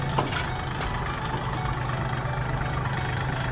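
A used 2011 Kubota L3608 mid-size farm tractor idles steadily at a dealer's lot, its engine giving a continuous low, even rumble that stays loud and close for the whole stretch with no talk over it.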